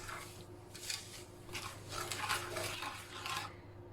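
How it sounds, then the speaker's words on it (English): A spoon stirring sugar into courgette jam in a pan off the heat, soft repeated scraping and clinking strokes in a loose rhythm, close but quiet. "now this is off the heat, and we are just going to stir this in"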